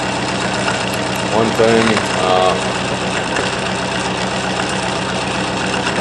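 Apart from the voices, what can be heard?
pulse motor running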